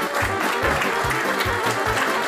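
A crowd claps steadily and densely for a couple of seconds, a full round of applause with no talking over it.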